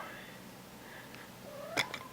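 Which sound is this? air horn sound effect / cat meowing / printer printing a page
cat meowing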